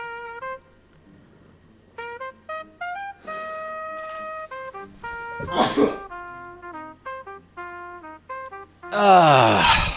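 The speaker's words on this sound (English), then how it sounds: "I sneezed" A loud, abrupt sneeze bursts out near the end over a backdrop of steady electronic beeping tones, with a similar sharp burst midway; no one speaks.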